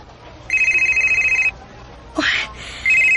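A phone rings loudly with an incoming call, sounding an electronic trilling tone in repeated bursts with short pauses and a brief knock between rings.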